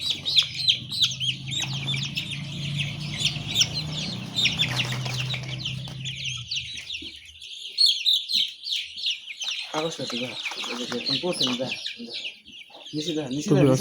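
Broiler chickens on a poultry farm clucking and chirping steadily, with a dense flock chorus throughout and a low rumble in the first half.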